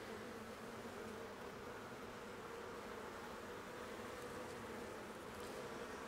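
Honeybees hum in a steady, dense buzz around a newly introduced queen in the hive, a continuous close-up drone with no voices.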